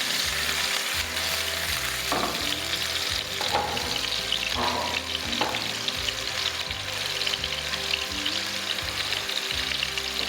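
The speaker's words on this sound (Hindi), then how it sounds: "तो शैलो फ्राई कर लेंगे हम।" Gola kebabs shallow-fry in oil in a pan over low heat, giving a continuous, even sizzle and crackle close up, with a few faint scrapes and bubbling swells rising and fading.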